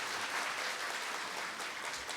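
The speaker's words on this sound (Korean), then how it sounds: "다시 한번 박수 부탁드립니다" Sustained applause from an audience fills a university president's farewell ceremony in Korea, a dense, even wash of many hands clapping with no break.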